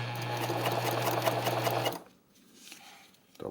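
A Pfaff 230 sewing machine stitches leather in a fast, steady mechanical chatter for about two seconds, then stops, leaving a quiet room with faint handling noise.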